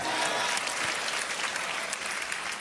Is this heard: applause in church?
yes